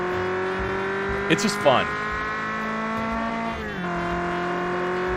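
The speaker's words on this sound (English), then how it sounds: "It sounds good. It's low slung. It's a tiny car." Tiny low-slung car in a driving video game, its engine droning at steady pitch with a brief burst of tire squeal and gear shifts, heard under someone talking.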